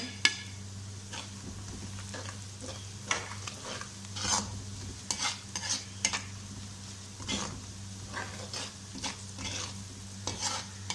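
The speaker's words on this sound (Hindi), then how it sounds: "मसालों को भी हम 2 मिनट भूनना है" Spices fry and get stirred in a pan for mutton karahi, a steady low sizzle under repeated scraping strokes of a spoon against metal, close and fairly quiet throughout.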